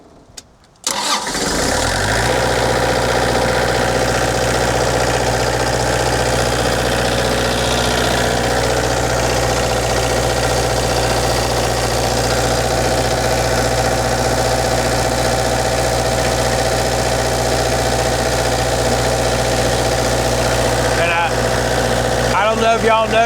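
The diesel engine of a Prevost bus conversion cranks briefly, catches and settles into a loud, steady idle that runs on for about twenty seconds, close up and dominant throughout.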